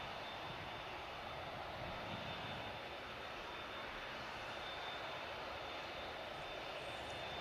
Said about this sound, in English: Fearless Lady, the New York bound A350 of Virgin Atlantic on the way out.